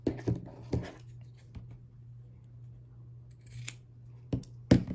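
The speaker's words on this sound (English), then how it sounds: "So I fold my tail in half and cut it at an angle." Scissors snip through fabric at an angle: a few crisp, close cuts in quick succession at the start, a quiet stretch over a low steady hum, then two more sharp snips near the end.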